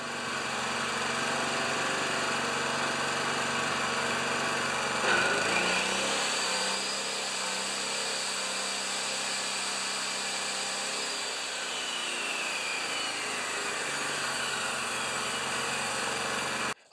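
A Honda EB2200X portable generator runs steadily, then its engine revs up and holds a higher pitch as a saw draws load, a continuous close mechanical drone throughout.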